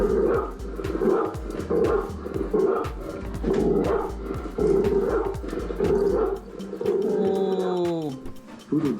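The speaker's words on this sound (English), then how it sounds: "Oh, Poodle dog barking." A poodle barks in a quick series of short yips and woofs close by, running through the whole stretch with whimpering, tone-like sounds at the end, mixed with some background noise.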